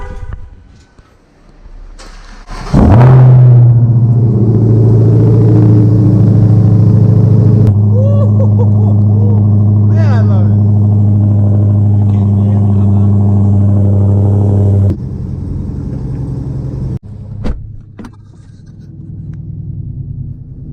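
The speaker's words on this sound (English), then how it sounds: "So we're gonna jump to the cold start right about now." A 2018 widebody Dodge Hellcat fires up on a cold start with a sudden loud bark, then settles into a heavy, steady low idle rumble for about twelve seconds before dropping away, close to the microphone.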